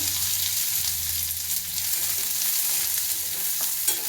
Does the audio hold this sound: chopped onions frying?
yes